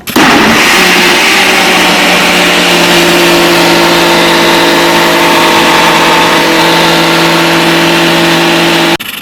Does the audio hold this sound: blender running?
yes